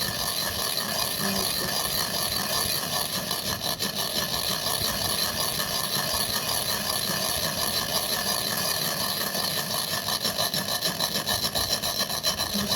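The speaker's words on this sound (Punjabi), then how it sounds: "ਇਸ ਤਰ੍ਹਾਂ ਰਗੜ ਕੇ ਨਾ ਵੀ ਵਿੱਚ ਤੇਲ ਨਿਕਲਣਾ ਹੀ ਗਿੱਲਾ ਆ ਹੋ ਜੂਗਾ" Small oily seeds rubbed steadily between the palms to press out oil, a continuous close, coarse rasping friction with no breaks and no talking over it.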